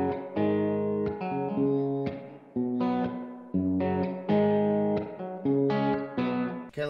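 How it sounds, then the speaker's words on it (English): An electric guitar runs through a Source Audio Collider pedal set to spring reverb, playing loud, separate chords and notes whose tails ring and decay between strokes. "when they talk about spring reverb, it's actually talking about that tone from old amplifiers using springs to create reverb"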